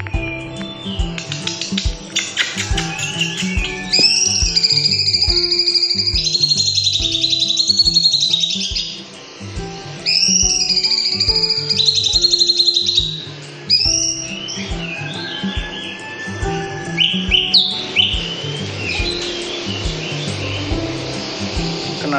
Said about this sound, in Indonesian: Ini dia latihan kenari dulu.